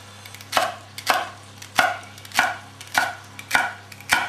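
A knife chops celery roughly into chunky angled slices on a board, seven sharp, evenly spaced thuds about half a second apart, close and clear with no talk.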